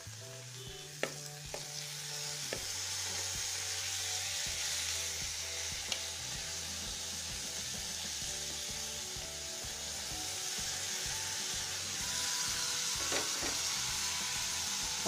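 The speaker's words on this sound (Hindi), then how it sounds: "अब इसमें हम कटा हुआ पत्ता गोभी को डाल देते हैं" Chopped cabbage fries with tomato and spices in a pan: a continuous hissing sizzle with rhythmic scraping of a spatula stirring throughout.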